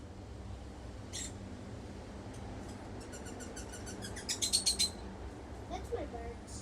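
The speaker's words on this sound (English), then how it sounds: "That's my birds." Pet birds chirping indoors, with short high tweets scattered through the first seconds and a busier burst of chirps toward the end, moderately close over a steady low room hiss.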